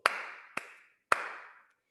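Children clap their hands three times, about half a second apart. Each clap is sharp and followed by a short ringing tail, with silence in between.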